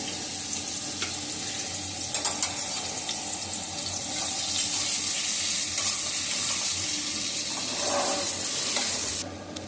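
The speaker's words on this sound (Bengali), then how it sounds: "আগে আলুটা ফ্রাই করে নেব। হালকা করে ফ্রাই করব, ডিপ ফ্রাই করব না।" Potato pieces shallow-fry in a small amount of white cooking oil in a pan, giving a steady loud sizzle with some stirring scrapes. The sound swells in the middle and cuts off near the end.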